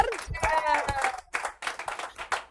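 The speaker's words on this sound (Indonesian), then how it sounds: "Kasih tepuk tangan dulu dong buat Dor." Studio audience claps for guest Dorce on a late-night talk show. A voice is heard at first, then a burst of scattered applause runs to the end.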